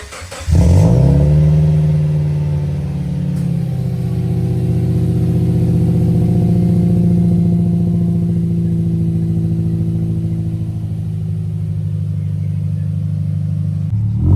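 Subaru Impreza with a Temu aftermarket exhaust cranks, catches and settles into a loud, steady rumbling idle with light revving, close up and continuous for the rest of the clip.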